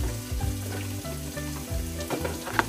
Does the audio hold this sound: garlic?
yes